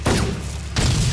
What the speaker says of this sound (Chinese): 他对我们开枪了